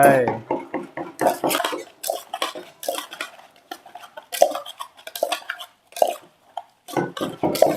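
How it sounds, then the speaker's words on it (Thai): Ground chili powder is stir-roasted in a pan with repeated clinks and scrapes of a metal utensil against the pan, in bursts between stretches of talk. "ใส่พริกป่นลงไปเผ็ดๆจกหน่อยคั่วตามไป"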